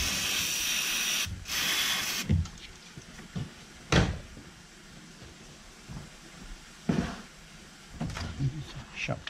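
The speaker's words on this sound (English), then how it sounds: "I'm gonna spray a little more" Long hissing bursts from an aerosol cleaner spray can come first, followed by scattered knocks and light handling sounds in a quiet room, while cleaning a Mercedes-Benz C300 MAF sensor and throttle body.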